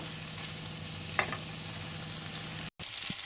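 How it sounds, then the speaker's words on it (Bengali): Pasta frying in a pan seasoned with a pinch of ground black pepper, a steady soft sizzle running throughout with a brief stir-like clatter in the middle and a short dropout near the end. "আবারও ভালো করে নেড়ে চেড়ে দু মিনিট ভেজে নেব"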